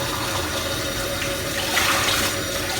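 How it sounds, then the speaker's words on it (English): Water from a kitchen tap rinsing soap residue out of a jug, a steady close hiss and splash that continues unbroken throughout. "Give mine one quick rinse to kill the residue and soap in it."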